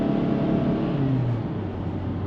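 A 2014 Honda Accord EX-L Coupe engine revs in sport mode, holding a loud, steady drone near the microphone that dips slightly in pitch as it settles, with no one talking.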